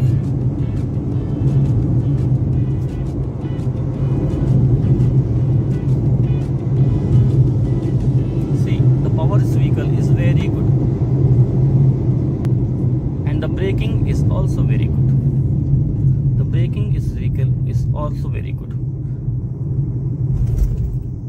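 Cabin of a Renault Kiger CVT SUV driving in normal mode, a steady low engine and road rumble that runs continuously and loudly throughout, with people talking intermittently over it.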